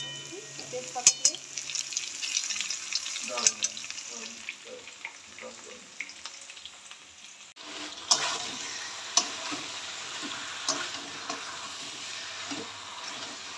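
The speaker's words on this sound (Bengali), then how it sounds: "মাংস কষছি।" Meat being sautéed in a wok-style pan with oil, onion, chilli and bay leaf, giving a steady close sizzle with occasional stirring scrapes and clinks throughout.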